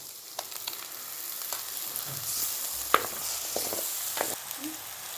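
Ground tomato paste fries in a pan for a heron curry, giving a low steady sizzle broken by a few sharp clinks and scrapes as it is stirred. No one speaks.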